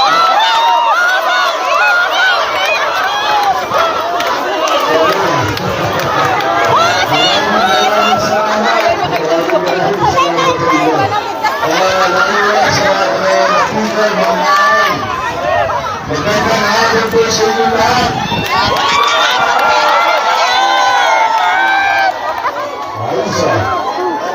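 A huge crowd at an outdoor barangay event in Pasig with Mayor Vico Sotto shouting and cheering continuously, dense close chatter and yells swelling in waves throughout.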